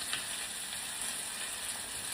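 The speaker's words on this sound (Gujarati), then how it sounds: "પછી તેલ આવી જાય એટલે આપણે કંટોલા નાખી દેવાના છે અને સાથે ટમેટા નાખી દેવાના છે" Frozen kantola (spiny gourd) and tomatoes hit hot oil seasoned with mustard seeds and cumin, giving a steady, even sizzle and frying hiss that runs unbroken and fairly quiet, with no voices.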